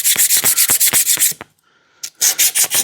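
A strip of emery cloth is rubbed quickly back and forth over a metal shaft to remove burrs, a close, rhythmic scratchy rasping that pauses briefly before resuming.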